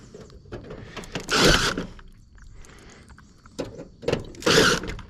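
Cordless impact driver sinking small white screws into a metal rain gutter, two loud whirring-hammering bursts near 1.5 and 4.5 seconds separated by quieter handling clatter, close up with no talk.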